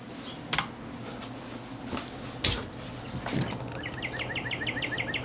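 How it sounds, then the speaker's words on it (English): Faint bird chirps repeat in a quick series toward the end, with a few scattered clicks and taps before them in a quiet room. "You hear the birds?"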